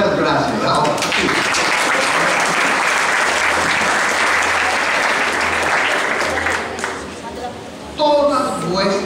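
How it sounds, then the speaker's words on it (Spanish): Congregation applauding in a church service, dense sustained clapping from a large crowd for about seven seconds, fading briefly before a voice speaks at the end. "Enseguida le podemos dar un aplauso a él"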